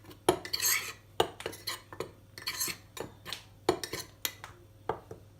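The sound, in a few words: spoon mixing cocoa powder in a mug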